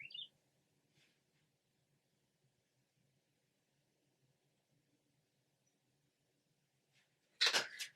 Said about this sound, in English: So the birds are chirping.